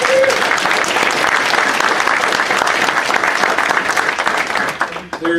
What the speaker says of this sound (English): And let's have a round of applause for Aaron.